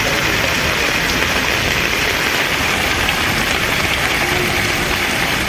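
Heavy rain pours steadily and loudly throughout in Tiruvallur district, where water is pooling at the Cholavaram toll plaza, with a faint engine hum beneath the dense, unbroken hiss.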